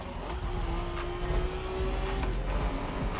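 A Honda V6 in a mid-engine car in The Crew Motorfest racing game revs high and steady, its engine note rising and holding loud over a rough, gritty rumble, with no talk.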